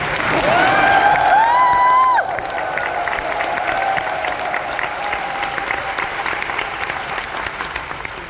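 An audience at a special lecture breaks into loud, dense applause with a brief whistle-like cheer early on, then the clapping eases to a steadier, slightly quieter patter that carries on to the end.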